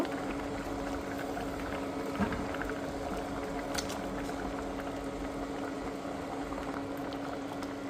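Lentils for an egg dal boil steadily in a pot, a continuous close bubbling simmer with no talking.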